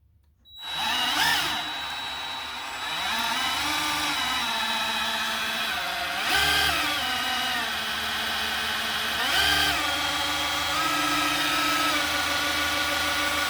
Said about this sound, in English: So I'm just going to run the drill in reverse because that's how the distributor turns.